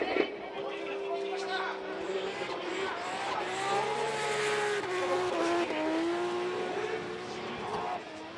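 A drift car runs at full throttle at Fuji International Speedway, its engine wailing and tires squealing in long sliding screeches, under continuous commentary.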